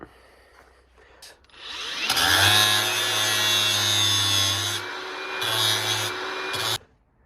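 A power tool grinds and shaves the shoulder off a Scania truck wing part in a workshop, loud and steady for several seconds with a brief pause and restart before stopping abruptly.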